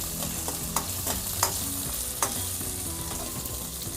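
Garlic and ginger sizzle steadily in hot oil in a home kitchen, with a few sharp scraping clicks of a spoon stirring the pan against a continuous frying hiss; no voices.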